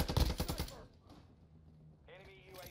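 A rapid burst of gunfire from an AR rifle in the video game Call of Duty Modern Warfare II cracks loudly at the start, then fades into quieter game ambience with a brief later sound.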